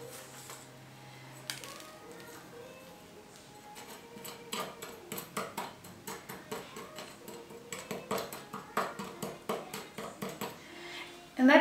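A spoon scrapes and taps against mirror craft pieces while spreading thick glue, a run of quick, light clinks and scrapes that grows more rhythmic and louder toward the end, close up, with a faint hum behind.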